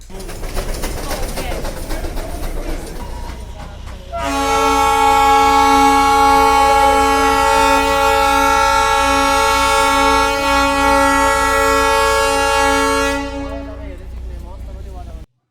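A Darjeeling toy train horn sounds a long, steady, loud blast for several seconds, preceded by the rumbling train and a faint voice.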